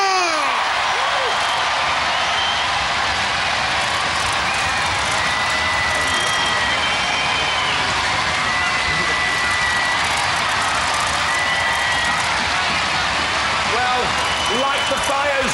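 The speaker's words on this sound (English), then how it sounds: "Light the fires, scream your applause." Studio audience at a robot combat show clapping and cheering continuously, a loud, dense roar of applause throughout, with a presenter's voice over it.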